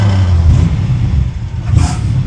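A Corvette restomod with no fuel injection revs loudly as the gas pedal is pressed, a steady deep engine rumble swelling and easing over a couple of seconds, close up.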